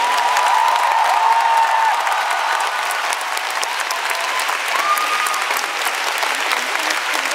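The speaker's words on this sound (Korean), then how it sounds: "마이킹 오케스트라에게 다시 한번 뜨거운 박수 부탁드리겠습니다" A large ice show crowd gives loud, sustained applause for the orchestra during a skating finale and curtain call, dense clapping with a faint cheer or whistle rising above it.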